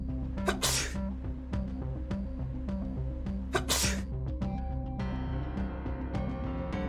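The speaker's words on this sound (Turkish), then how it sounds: "İlk önce hapşırma." Two loud, explosive sneezes burst out about three seconds apart over steady background music, each a sharp, airy blast close to the microphone.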